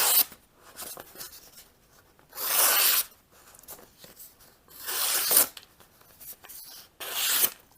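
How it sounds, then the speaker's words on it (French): A kitchen knife slicing through cardboard: three rough, scraping cuts, each about a second long and separated by quieter pauses. The cutting is close and fairly loud, with no talking. "je viens de découper des cartons"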